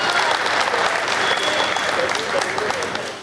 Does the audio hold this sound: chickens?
no